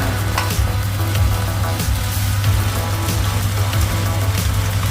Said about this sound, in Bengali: হাই হিটে ভাজা হচ্ছে